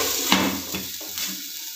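Vegetables frying in oil after salt and turmeric are added, a soft sizzle with a couple of brief clinks of a utensil against the pan, close and without talk.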